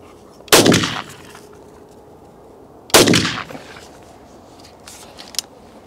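Two loud, close shotgun blasts fired at a target in a penetration test, several seconds apart, each with a sharp crack and a short echoing tail in an open outdoor setting.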